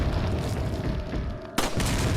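A loud explosion bursts out in a Resident Evil 4 game scene, one sharp boom with a rumbling tail, following continuous dense game noise.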